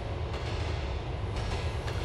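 A train ride in GTA 4 rumbles steadily with a constant low roar and faint rail clatter, no voices.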